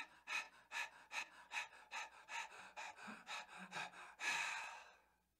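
Shallow chest breathing using only the upper lungs: about a dozen quick, evenly paced breaths in a steady rhythm, ending with one longer, fuller exhale, close and fairly soft.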